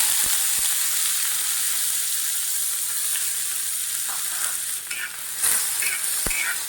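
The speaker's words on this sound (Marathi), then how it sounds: "कांदा भाजून घेऊया" Finely chopped onion and cumin frying in two to three spoons of oil in a pan over medium gas, a continuous close sizzle with a few sharp stirring clicks and scrapes toward the end.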